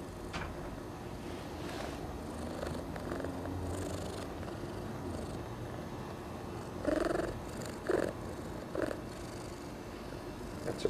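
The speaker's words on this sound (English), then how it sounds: "That's a purr." A pregnant female cat purrs close by as a continuous low rumble, with a few brief louder sounds partway through.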